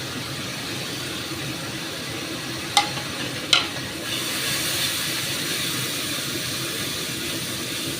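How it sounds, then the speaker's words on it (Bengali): Cumin, coriander, chilli and turmeric go into a hot pan for sautéing, giving a steady close frying hiss with two short sharp clicks partway through. "এবারে সবকটা মশলা আমি দিয়ে দিচ্ছি জিরে ধনে লঙ্কা হলুদ"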